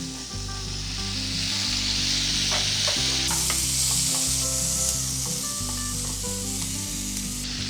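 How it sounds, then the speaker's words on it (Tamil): Onions and tomatoes sizzle steadily in a hot pan for a drumstick egg masala, with close, continuous frying hiss and occasional scraping stirs, no voices. "ஆனியனை கொஞ்சம் வதக்கிக்கலாம். தக்காளியை போட்டுக்கலாம்."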